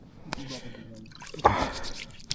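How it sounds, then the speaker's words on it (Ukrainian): Water poured into a small bucket at an outdoor fishing camp, a short splashing pour with dripping, heard beneath a person's talk. "І в баканчик отак наливаємо."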